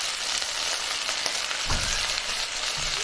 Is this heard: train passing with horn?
no